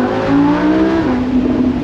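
A loud, high-pitched Lamborghini V10 engine screams at high revs near 8700 rpm, holding a sustained wail with a slight dip and rise in pitch.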